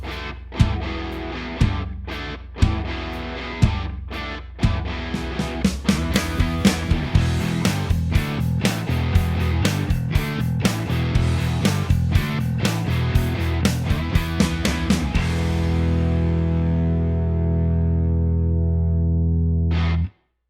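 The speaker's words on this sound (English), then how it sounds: "And that was the Slate virtual guitar" Distorted rock guitar recorded with a Slate virtual guitar (THU) opens with loud, separate chord stabs, then drives into a busy, chugging riff and ends on a long ringing chord that fades out. No one talks.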